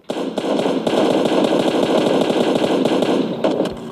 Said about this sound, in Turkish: Aa yandan biri sıkıyor.